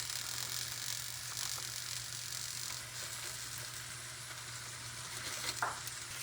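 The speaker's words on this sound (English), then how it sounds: "I'm going to apply some of that into the salmon, which I'm going to cook on cover now for a few more minutes" Glazed salmon sizzles steadily on a covered indoor grill, a continuous hiss with a faint low hum beneath and a few brief crackles near the end.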